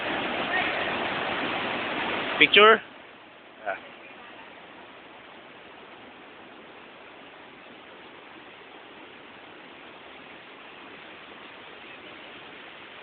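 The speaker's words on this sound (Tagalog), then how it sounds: "Lakas ng agos ng tubig." Water rushes through a stream inside a dark bat cave as a loud, steady broadband roar. It drops to a quieter hiss after a couple of seconds, with a brief spoken exclamation.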